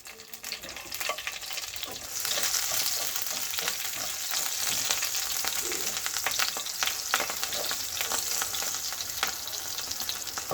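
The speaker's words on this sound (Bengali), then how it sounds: "তেলেই কালো জিরে আর কাঁচা লঙ্কাটা ফোড়ন দিয়ে দেবো।" Loud, crackling sizzle of nigella seeds and green chilli hitting hot oil, a dense continuous frying hiss with scattered pops and spatters that builds after the first couple of seconds.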